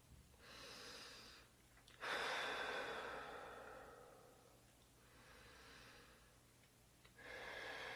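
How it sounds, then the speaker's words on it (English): Slow, deep breaths drawn during a hand massage with a soft-tissue massage tool, heard as a few long, close airy inhales and exhales separated by short pauses, with no talking. "I'm going to go through that breathing system, 3 to 5 breaths."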